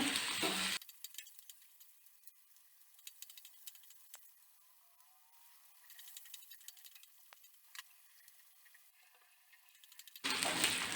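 Spices and ginger fry in a pan for mutton sambar. A loud sizzle at the start drops to a soft, crackling simmer, then swells back to a full sizzle at the end. No one speaks.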